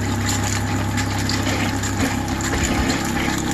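Water runs through an RV line into a drain while a Keystone Passport 2810BH travel trailer is winterized, a steady hissing, pump-like rush close and continuous.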